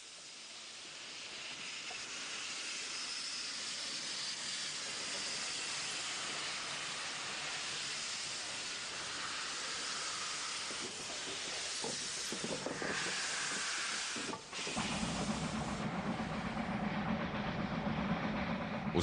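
Steam locomotive pulling the Train Deluxe, Zimbabwe's last passenger train, out of Bulawayo station, with a steady loud hiss and rumble that deepens and grows heavier in the last few seconds, no voices.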